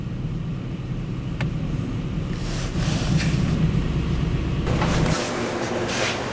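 A 2003 Lincoln LS 3.9L V8 idles smoothly after a spark plug change, a low steady engine hum with some wind-like noise rising partway through.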